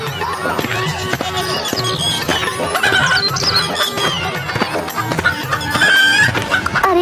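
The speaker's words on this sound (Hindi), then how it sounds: "शाम को बाजार से 2 बड़ी बड़ी मुर्गियां खरीदता है" Large hens cluck and a rooster crows loudly and close by, the clucks ragged and overlapping, with the noise of a busy farmyard underneath.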